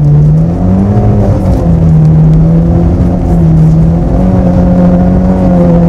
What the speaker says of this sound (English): if I use the handbrake, just get it sideways,